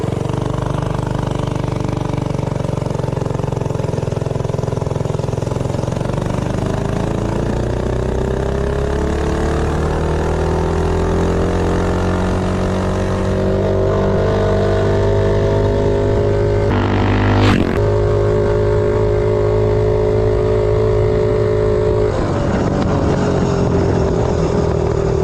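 A Tillotson 212 engine fitted with a billet flywheel runs steadily and loudly throughout, a close, continuous drone whose pitch slowly rises and falls, with one brief sharp spike partway through.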